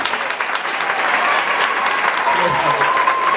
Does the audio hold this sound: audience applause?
yes